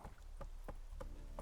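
Horse hooves clip-clop in The Witcher 3, four or five evenly spaced, fairly soft hoofbeats on hard ground in a slow walk, with no talk.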